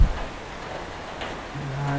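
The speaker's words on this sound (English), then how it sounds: "just a little bit of rain getting blown in here at an angle" Typhoon rain blown in at an angle during a storm in Angeles City gives a steady, diffuse hiss of wind-driven drops, with a faint low hum rising near the end.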